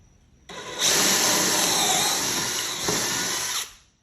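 A power drill whirs steadily at high speed for about three seconds while drilling with a Kreg Jig pocket-hole guide, starting abruptly and cutting off, with a slight dip in pitch midway.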